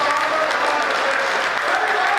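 A live audience at a comedic poetry performance breaks into loud, steady applause, a dense wash of many hands clapping together without pause.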